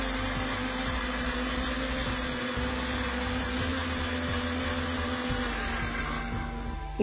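A mixer grinder hums and whirs continuously, close and steady, blending egg mayonnaise with oil in a small jar, with no talk over it.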